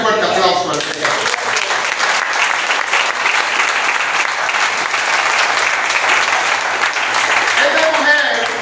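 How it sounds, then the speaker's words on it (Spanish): Sustained loud applause from a church congregation at a worship service, dense steady clapping filling the whole stretch with faint voices mixed in. "Denle un fuerte aplauso al Señor."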